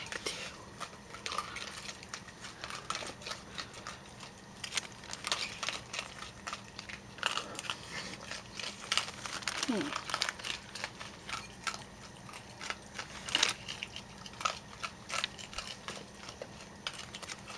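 Raccoons snacking in a backyard, with soft irregular crunching and chewing close by, scattered clicks and rustles throughout, and a faint voice at one point.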